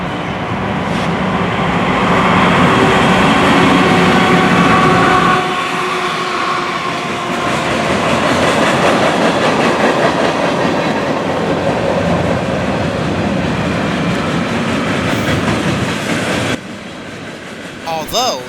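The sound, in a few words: southbound NS freight train passing, led by NS 9357 and 8000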